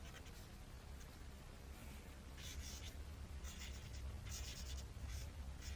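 A pencil sketches a caricature figure on paper, with faint scratchy strokes coming in short bursts, quiet and close over a low background hum.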